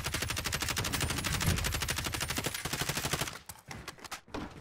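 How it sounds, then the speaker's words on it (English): Rapid automatic gunfire in the video game Modern Warfare Warzone, a loud, dense burst of shots that runs steadily for about three seconds before breaking into scattered, fainter shots and game noise. "I'm just shooting"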